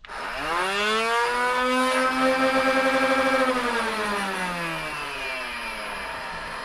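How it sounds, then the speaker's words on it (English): Flywheels of a Nerf Ultra 2 revolver blaster spin up into a rising, close electric whine, hold a steady pitch for a few seconds, then slowly wind down. "let's rev up the blaster"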